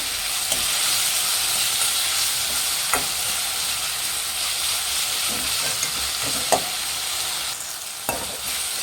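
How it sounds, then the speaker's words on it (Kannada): Tomatoes frying in a pan for Karnataka-style bisi bele bath give a steady, loud sizzling hiss throughout, with a few sharp stirring scrapes and clicks rising above it. "ಟೊಮೊಟೊ ಚೆನ್ನಾಗಿ ಫ್ರೈ ಮಾಡಬೇಕು"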